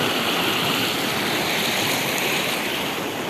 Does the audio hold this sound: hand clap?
no